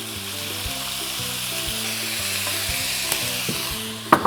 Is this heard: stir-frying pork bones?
yes